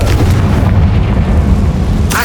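Confringo fire spell blasting in Hogwarts Legacy, a dense low rumbling boom sustained loudly through the moment, with a brighter crackle rising near the end.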